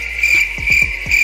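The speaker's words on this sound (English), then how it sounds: "Cricket." A cricket sound effect chirps in quick bursts: a steady high trill with several short pulsed chirps repeating, close and clear, with no voices.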